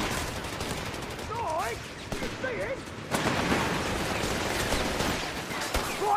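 Sustained machine gun fire in the strategy game Company of Heroes, a busy wash of rapid shots that grows denser and louder midway, with shouted voice commands cutting through the first half.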